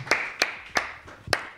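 Four sparse, crisp hand claps spaced unevenly at a wine tasting, close and isolated rather than a full round of applause, greeting an oenologist.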